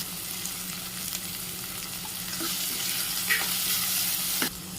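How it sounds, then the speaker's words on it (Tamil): Tomatoes sautéing with a little rock salt for mutton dalcha, giving a steady close sizzle with faint stirring scrapes throughout, no voices. "தக்காளி சின்னதாக 2 சேர்த்துருக்கேன். இதையும் நல்லா வதக்கிக்கோங்க."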